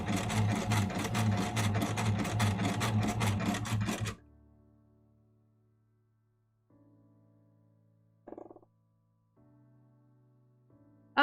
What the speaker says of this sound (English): I'm right now sewing purple, or lavender and purple